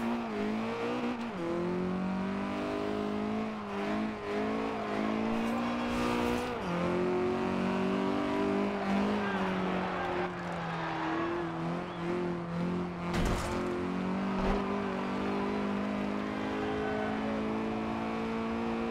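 A 1968 Abarth 595 in Forza Horizon 2 revs its small engine hard and continuously, pitch rising and falling through gear changes, with brief tire squeal. The car is loud and near throughout.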